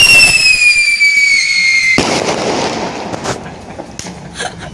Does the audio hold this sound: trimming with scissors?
no